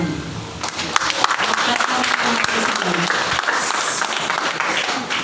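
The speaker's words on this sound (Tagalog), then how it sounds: "Malakas na palakpak." Church congregation gives loud, sustained applause before a sermon, a dense ongoing roar of clapping with some crowd voices mixed in throughout.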